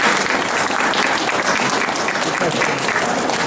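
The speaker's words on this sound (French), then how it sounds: "Et je vous demande de l'applaudir." Sustained, dense applause from a conference audience, steady and loud throughout with no pauses, a large crowd clapping together.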